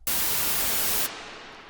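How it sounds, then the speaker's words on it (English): A burst of bright, hissing white noise from a software synthesizer oscillator plays for about a second, then cuts to a duller, quieter hiss. "we just get a simple noise sound"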